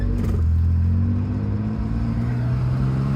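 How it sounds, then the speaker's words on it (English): A 1964 Chevy Corvair Monza convertible, rotisserie restored, idles through its dual exhaust with a steady, close, low rumble and a slight engine clatter, no talk over it. "Love the sound on this one with the dual exhaust."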